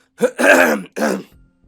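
A close, loud throat clearing: a short rasp followed by a longer grunting clear, then a brief second hack, with no talking.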